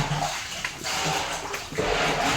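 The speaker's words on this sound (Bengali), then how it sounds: "এই দেখেন পুরো ট্যাঙ্কির যে ময়লা জলটা কীভাবে তোলা হয়" Dirty, iron-laden water being pumped or scooped out of a household water tank during cleaning, a steady close watery rush with brief surges and splashes throughout.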